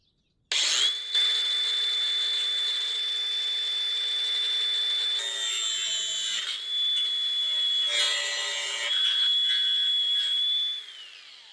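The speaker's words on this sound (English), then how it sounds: "cut them off with a grinder and a cutoff wheel. I'm going to use a grinder." An angle grinder whines loudly at a steady high pitch, its tone shifting and roughening as the cutoff wheel bites into metal rivets, then spins down near the end.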